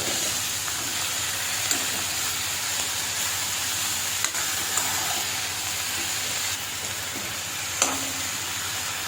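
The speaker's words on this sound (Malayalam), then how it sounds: "ചീര എല്ലാം ചേർത്ത് കൊടുക്കുക ഒന്ന് ഇളക്കി കൊടുത്ത് അടച്ചു വയ്ക്കാം" Chopped red amaranth leaves stirred in a frying pan for a stir-fry, a steady soft sizzle with a few faint scrapes and taps from the stirring, and no talking.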